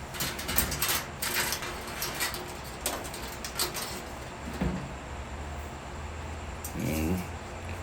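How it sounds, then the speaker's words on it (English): Light taps and metallic rattles come from loosening the lid of a GE gas dryer, scattered knocks and scrapes at close range, with a brief ratcheting clatter near the end and no talk. "we're going to tap the lid, get it a little loose"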